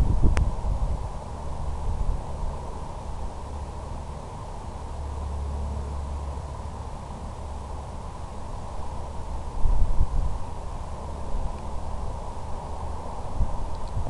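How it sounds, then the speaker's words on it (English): Wind buffeting a microphone outdoors during a small FPV drone flight, a steady rushing roar with low rumbling gusts that swell and fade throughout. "The wind is coming left to right."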